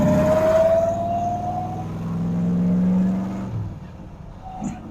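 A C3 Corvette engine pulling through second gear, a loud rising drone with a climbing whine that swells, then backs off and fades near the end.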